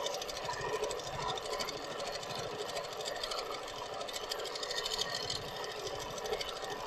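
A Moxie XL longarm quilting machine stitching dense micro quilting and pebbling, with a continuous fast mechanical chatter from the needle that stays steady and close throughout with slight shifts in pace.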